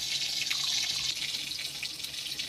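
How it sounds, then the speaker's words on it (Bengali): Water pours steadily and softly over moong dal and gobindobhog rice set to soak. The trickle and splash continue without pause and nothing else is heard. "এটা জল দিয়ে একটু 10 মিনিট ভিজিয়ে রেখে দেব।"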